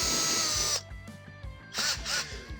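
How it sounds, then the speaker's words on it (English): A power drill bores through the painted body of a 1969 Pontiac GTO custom build, with a loud whine that cuts off and then restarts in shorter bursts, close up. "As that drill's going through,"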